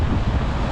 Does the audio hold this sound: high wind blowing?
yes